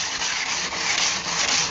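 Hand sanding the outside of a handmade knife display case, a steady, close, hissing rub of sandpaper in continuous back-and-forth strokes.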